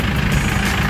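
A Kia Bongo III or Hyundai Porter II turbo diesel truck idles close by with a steady, loud low rumble and no talking.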